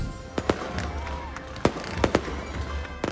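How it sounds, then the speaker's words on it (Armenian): Christmas fireworks over Aleppo burst in a string of sharp, loud cracks and booms, several spaced over a few seconds against a steady crowd murmur. "Սիրիայի երկինքը ռումբերի պայթյունների փոխարեն լուսավորում է հրավառությունը"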